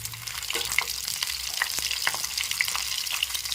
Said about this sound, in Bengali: কড়াইয়ের মধ্যে তেল গরম হয়ে গেছে একটু সামান্য নুন মিশিয়ে হালকা করে ভেজে নিতে হবে নেড়ে চেড়ে